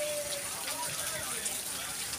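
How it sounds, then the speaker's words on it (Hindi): Monsoon rain of the Sawan season falls steadily outdoors near a village school, a continuous close hiss of drops with no break or rise. "बरसात की बारिश, सावन की बारिश 2-3 घंटे से हो रही है।"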